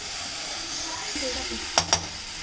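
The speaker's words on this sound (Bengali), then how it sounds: "এই মশলাটা কষে নিচ্ছে এখন" Spice masala for an eel fish curry is stir-fried in a pan, a steady sizzle with soft scraping, ending with two quick metallic clinks of a spoon against the pan.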